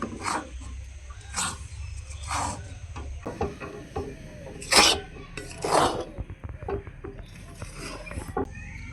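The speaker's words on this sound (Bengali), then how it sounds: "খুন্তি দিয়ে ভালো করে চালের গুঁড়োটাকে ফুটানো জলের সঙ্গে মিশিয়ে নিতে হবে।" Rice flour being worked into boiling water with a spatula, intermittent scraping and rubbing strokes at an uneven rhythm, fairly quiet and close, with a few sharper scrapes standing out.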